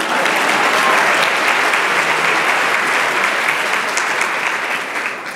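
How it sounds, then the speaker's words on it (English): Sustained audience applause at an evening ethics lecture, a dense, steady wash of clapping from a large crowd that holds loud for about five seconds and eases slightly at the end. "Applause."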